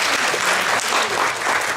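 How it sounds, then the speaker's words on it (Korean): A conference audience at the 2014 Birkman Korea conference gives steady, dense applause to welcome a speaker, with a continuous wash of many hands clapping and no talking. "박수로 환영해 주시기 바랍니다."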